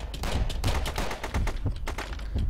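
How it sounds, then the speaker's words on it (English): Automatic assault rifle in Zombie Grinder rattling off rapid bursts, loud and close, with distinct shots repeating in quick rhythm across the whole moment. "This is an automatic assault rifle."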